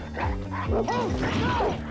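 A large dog barks and yips in a rapid, close run of gruff woofs, with clattering and crashing noises mixed in.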